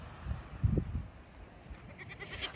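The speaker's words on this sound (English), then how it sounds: "so we only have these 2 goats now." Two farm goats bleating nearby, a few short throaty calls in the first second over outdoor background noise, with a faint higher sound toward the end.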